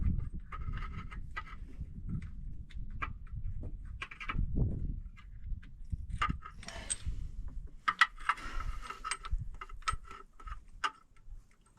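A spark plug is threaded by hand into a truck engine, making small irregular metallic ticks, clicks and light scrapes close up, with quiet gaps between bursts.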